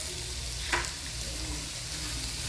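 Reshmi kebabs frying in a pan give a steady, close sizzle and crackle, with a brief sharper pop near the start and a low constant hum beneath.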